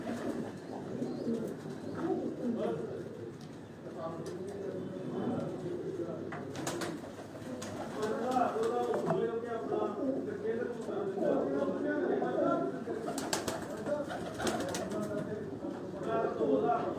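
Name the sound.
black-mouthed pigeons cooing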